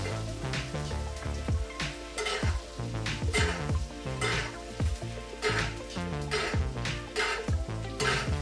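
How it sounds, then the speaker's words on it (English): Japanese wagyu NY strip steak sizzles loudly in a hot pan with smashed garlic and rosemary while being basted, steady frying hiss broken by repeated rhythmic spoon scrapes and splatters, close and continuous. "Keep basting your steak for the remainder of the 2 minutes."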